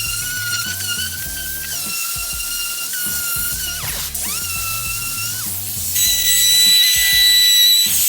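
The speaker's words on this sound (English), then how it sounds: "So first we sand it with a 60 grit." A timber window frame being sanded with 60 grit paper on a power sander, a loud continuous whine with shifting pitch that dips briefly as the tool eases off and then rises and strengthens near the end.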